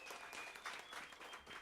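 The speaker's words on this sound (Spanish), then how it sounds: "un aplauso para ellos." Audience clapping for music students of the Yarina music school at a community event, a soft, fairly distant patter of many hands that holds steady for the whole short stretch.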